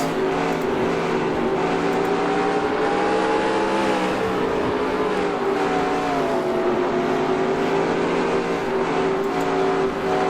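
Racing trucks at Eldora Speedway in the NASCAR Racing 2003 video game give a continuous, loud engine drone, a steady pack of revving motors whose pitch rises and falls slightly throughout, with no talk.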